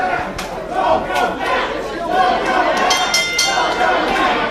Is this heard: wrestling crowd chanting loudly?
yes